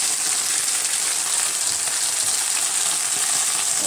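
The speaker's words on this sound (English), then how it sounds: "It's really sizzling now." Food sizzles loudly and steadily in hot oil, a constant bright crackling hiss with no voices.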